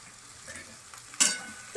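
Okra sizzles softly in a hot pan over a low flame, with a sharp scraping stir near the end as it is moved around.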